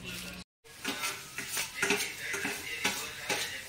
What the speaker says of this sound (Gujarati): હવે ટમેટું સુધારશે, વેજીટેબલ સેન્ડવિચ કરવાની છે.